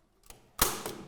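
A stapler fires staples through the pleated flashing of a Velux Integra electric roof window into a timber batten, giving two or three sharp, close mechanical clacks, with the loudest near the middle.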